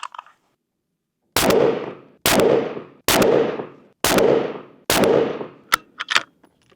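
Five sharp pistol shots from a Ruger handgun firing Sig Marksman Elite ammunition crack out at a steady, evenly spaced pace, each loud and close with a short ringing tail, then a few faint clicks and handling sounds.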